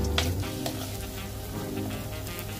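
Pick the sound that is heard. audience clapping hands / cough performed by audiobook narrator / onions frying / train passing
onions frying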